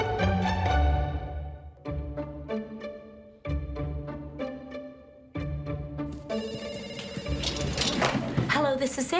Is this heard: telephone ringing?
yes